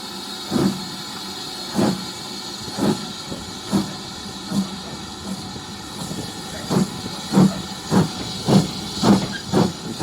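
Rhythmic chuffing bursts of steam locomotive 80080 repeat steadily and grow quicker toward the end, over a constant hiss, as the train passes through Ramsbottom's Burrs Country Park station on the East Lancashire Railway without stopping.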